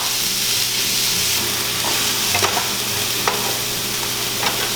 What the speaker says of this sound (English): we're gonna start by adding in some olive oil and lightly frying the garlic. Add the onions